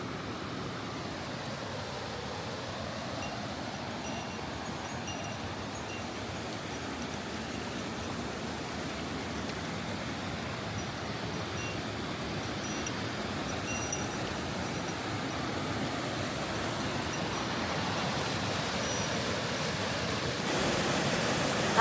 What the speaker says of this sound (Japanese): 小さな滝にたどり着きました。